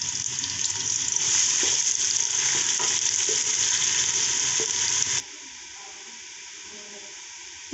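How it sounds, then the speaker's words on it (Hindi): Onions sizzle and fry in hot oil for a Hindi-style aloo and chana dal, a loud steady crackling hiss up close that drops abruptly to a faint low background hum. "अब हमने ऑयल को गर्म कर लिया। हम इसमें प्याज को डालकर थोड़ा सा ब्राउन कर लेंगे।"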